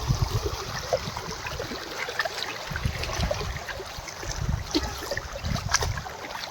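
Rainwater runs everywhere across open muddy ground after a downpour, a continuous rushing wash mixed with gusty, buffeting noise, steady and fairly close with no one speaking.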